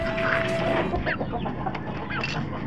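Chickens raised for keeping cluck in a few short, close calls over a low background hum, with no talking.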